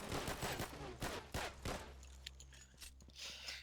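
Quiet bursts of automatic gunfire in the shooter game Regain Earth: First Strike, several quick shots in the first half that give way to a lower, steadier mechanical rumble.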